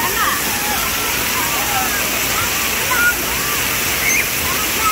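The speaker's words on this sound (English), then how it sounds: "Go, go under the waterfall." Broadband wash of a park waterfall pours steadily and fairly close throughout, with a faint splash here and there and birds chirping over it.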